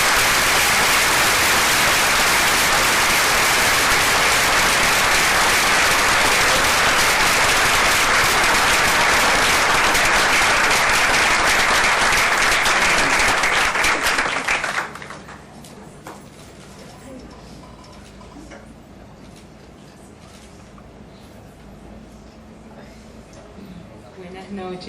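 Loud, dense audience applause fills the hall at a Dominican feminism book launch, sustained for about fifteen seconds before cutting off abruptly into quiet room tone.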